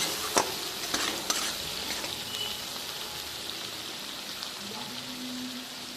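Spices, turmeric and green chilli paste for a mustard-oil parshe fish curry are sautéed in a pan, a soft continuous sizzle with a few spatula scrapes early on, fairly quiet and steady.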